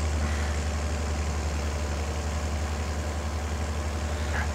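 A cheap tractor in Farming Simulator 22 idles with a steady low, even engine rumble that continues unchanged throughout.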